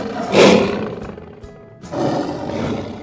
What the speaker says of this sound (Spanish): el león se acercó y pegó un gran rugido